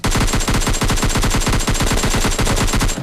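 Loud, rapid automatic gunfire in a shooter video game plays as a dense, steady burst of close shots lasting the whole stretch, with no voices over it.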